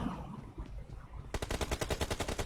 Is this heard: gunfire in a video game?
yes